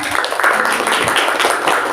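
Classroom applause from a group of students, steady dense clapping filling the whole stretch at moderate loudness with no clear gaps.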